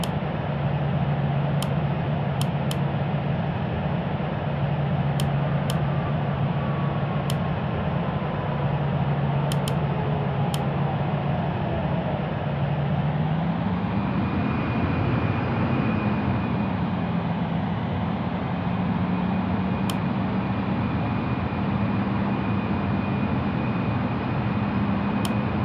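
A Batik Air Boeing 737-800 taxis in Real Flight Simulator, its jet engines holding a steady low hum and whine with a slow pitch change midway, accompanied by faint periodic clicks and no speech.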